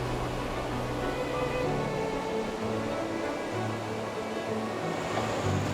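Steady, dense rush of falling water from the first tier of a multi-tier waterfall near Padang, a broad continuous roar that stays even throughout with no voices.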